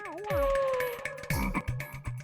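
Frog croaking loudly and close, a sequence of deep throaty croaks and bursts repeating in uneven rhythm.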